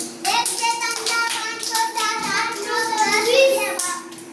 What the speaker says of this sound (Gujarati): હવે ઉપર તાળી વગાડો બધા